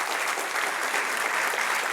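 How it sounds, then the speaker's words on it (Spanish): A church congregation claps together in steady, even applause that fills the room at moderate loudness, with no voices standing out. "Den un aplauso al Señor."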